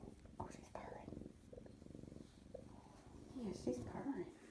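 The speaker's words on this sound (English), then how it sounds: "Oh, she's purring." A kitten purrs softly and steadily up close, a low rumbling texture, while people speak quietly over it.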